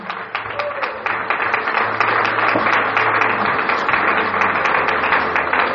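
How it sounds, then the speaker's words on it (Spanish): A church congregation applauds in a continuous wash of clapping, steady and loud throughout, with a low hum beneath it. "¿Le puedes dar un fuerte aplauso a Jesús?"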